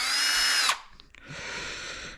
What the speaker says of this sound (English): So guys, that's the drill recharged.